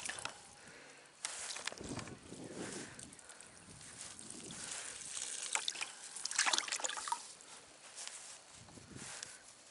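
Fresh water trickling and pouring into a container for goats, a soft irregular dribble with occasional splashes and shuffling movement nearby, fairly quiet throughout.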